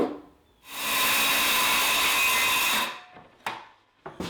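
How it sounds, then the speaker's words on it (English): A power saw cuts through half-inch birch plywood in one loud sustained pass of about two seconds, followed by a few short knocks and scrapes as the sheet is handled. "I just finished cutting the plywood to size"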